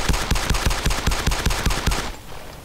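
Automatic gunfire in the Arma 2 DayZ Mod: a rapid, steady burst of about ten loud close shots, then an abrupt stop leaving faint ambience.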